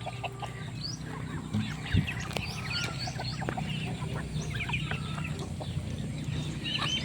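Chickens cluck and chatter among other farm animals in a yard, many birds calling at once at close to moderate distance, with a brief thump partway through and no talking.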